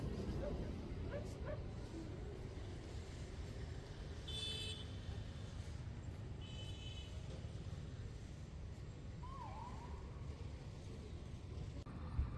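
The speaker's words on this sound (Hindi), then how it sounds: "वहाँ हमने देखा कि कुछ कुत्ते अंकल को छेड़ रहे हैं।" Dogs bark on a busy Lucknow street near the Ghanta Ghar clock tower on a winter day. The barks are moderate and scattered, mixed into steady traffic and crowd noise with murmuring voices.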